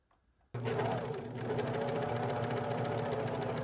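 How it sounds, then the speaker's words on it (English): A serger sewing machine starts up and runs through fabric at once, giving a loud, steady mechanical whir that holds at an even speed to the end. "So let's just serge through here and see what we get."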